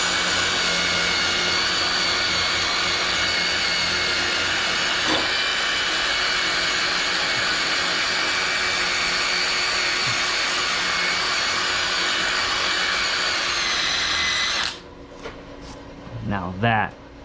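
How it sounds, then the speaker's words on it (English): A drill with a wire brush attachment scours dirt off a boiler circulator pump housing in a steady, loud whirring hiss that runs for about fifteen seconds before cutting off, followed by brief clatter. "I'm gonna take a wire brush on my drill, and what I'm gonna do is clean up this area."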